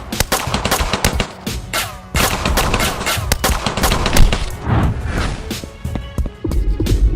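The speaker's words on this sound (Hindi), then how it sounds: "आरव के आदमी मेहुल के ऊपर फायरिंग कर देते हैं।" Staged gunfire in an animated detective story: rapid bursts of machine-gun and single shots crackle over a busy, loud soundtrack for several seconds.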